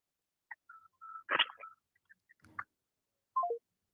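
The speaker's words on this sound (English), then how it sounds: "All right, they cut the phone." A phone call is cut off. Faint, scattered electronic beeps and tones sound on the line, ending in a short falling tone, with no talk.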